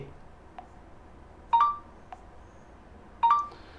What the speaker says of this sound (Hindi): अब थोड़ी देर में देखो नोटिफिकेशन का आवाज़ इसमें आता रहेगा